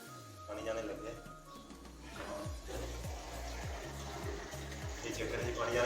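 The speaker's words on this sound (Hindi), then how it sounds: "कितनी स्पीड के साथ पानी आ रहा है।" Water gushes from a tap into a newly installed bathtub and drains away, a steady rushing flow with gurgling beneath it while someone talks over the sound throughout.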